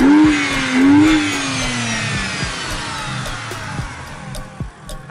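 A BMW 328i E90 fitted with an AFE short ram intake revs up with a rising and falling engine note, close and loud, then settles to a rough idle with no talking.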